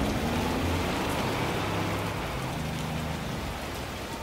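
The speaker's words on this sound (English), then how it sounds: "Then come the torrential autumn rains." Torrential autumn rain pours down in a steady, dense hiss that holds an even loudness throughout, with no voices.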